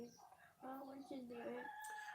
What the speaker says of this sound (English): One rooster for 30 homes